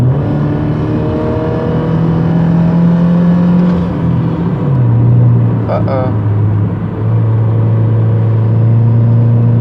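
A Subaru car is floored at full throttle, its engine drone climbing in pitch, dropping at a gear change, then rising again, loud and close from inside the cabin, with a brief clink partway through.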